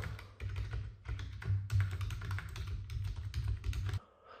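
Rapid clicking of keys on a computer keyboard in uneven bursts, close and fairly quiet, stopping abruptly near the end.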